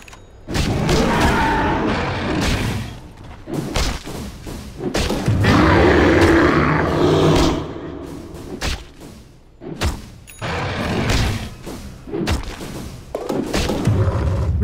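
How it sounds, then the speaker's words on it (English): Dota 2 battle sounds of heavy thuds, booms and impacts in dense bursts as a tower comes under attack, loud and fairly continuous with no speech. "Radiant's bottom tower is under attack."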